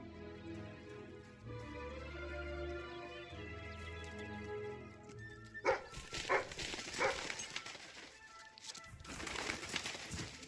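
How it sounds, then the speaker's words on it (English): A dog in the video game Fable 3 barks in several sharp bursts in the second half, after a stretch of game music, with a few bird-like coos mixed in. "You got a dog"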